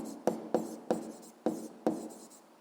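A pen writes physics notes in five quick strokes, each a sharp scratch fading away, evenly spaced and close up, with no one speaking.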